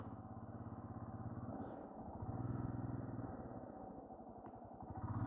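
A motorcycle ridden alone along a remote mountain road in Ladakh, steady engine drone with rhythmic pulsing at cruising speed, heard from the rider's position with wind-muffled tone and small rises in revs.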